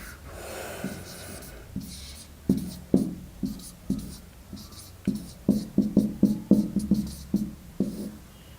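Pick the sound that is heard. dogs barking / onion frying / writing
writing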